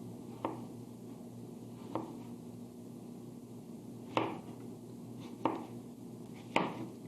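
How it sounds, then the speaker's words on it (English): A knife slices food about an eighth of an inch thick on a cutting board. Five crisp, separate cuts land at uneven intervals over a faint, steady room hum. "See how nice and easy that is, and you're cutting them all at once."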